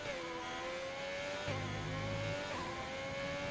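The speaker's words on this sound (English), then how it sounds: "As we have a few cars heading out onto track now." Several F1 racing cars in a video game roll out of the pits onto the British Grand Prix track, a steady engine whine rising in pitch with brief gear changes and a deeper rumble midway, fairly distant and continuous.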